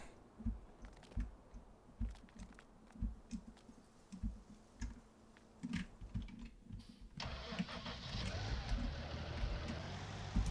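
A Deutz-Fahr tractor engine cranks and catches in a farming video game, a run of sharp mechanical clicks giving way to a steady, loud idle rumble that fills the last few seconds.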